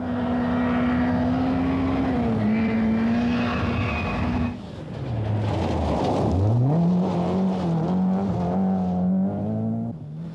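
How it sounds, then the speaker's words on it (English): A Vauxhall Nova rally car engine revs hard at maximum revs during the 1988 Scottish Rally, pitch climbing and falling as it shifts, with a brief dip before roaring up again, loud and close. "using maximum revs to get the most from the nimble Nova"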